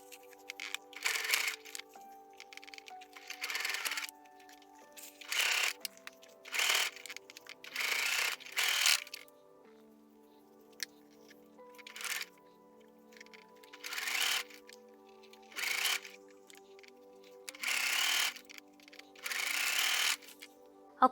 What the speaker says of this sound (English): now we can sew with our sewing machine